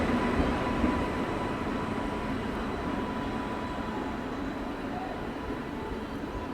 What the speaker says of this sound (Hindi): सेम उसी लोकोमोटिव को रिवर्स करके लगाया जा रहा है